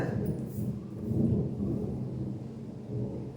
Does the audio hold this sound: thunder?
yes